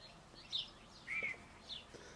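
Birds chirp faintly in the distance on a cool, cloudy, slightly breezy morning, a few thin, high calls spread apart over a quiet outdoor hush.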